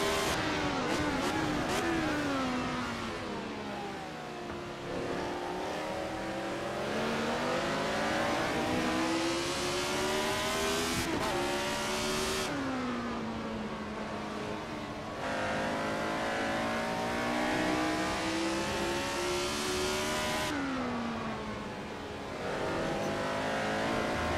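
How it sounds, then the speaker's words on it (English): Retro Ferrari F1 car racing at Monza in Assetto Corsa, a shrill high-revving engine screaming close by, repeatedly climbing in pitch through gears and dropping on shifts and braking, continuous and loud with no voices. "But again, a Ferrari just goes like mad."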